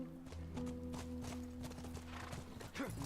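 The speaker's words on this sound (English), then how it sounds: "keep pressing the run button and the horse will automatically jump over it" Hooves clop in a steady rhythm as a horse gallops and jumps in The Last of Us Remastered, with a whinny and a low musical drone beneath, loud and close.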